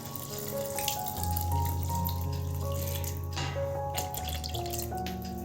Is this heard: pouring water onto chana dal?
yes